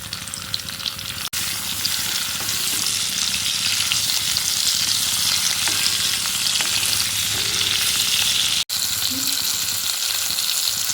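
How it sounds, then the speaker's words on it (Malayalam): Ivy gourd pieces fry loudly in a hot pan for a masala curry, a steady dense sizzle and crackle running almost without pause, broken only by two brief dropouts. "തിരിച്ചിട്ട് അങ്ങനെ ഇത് നമുക്കൊന്ന് ഫ്രൈ ചെയ്തെടുക്കാം"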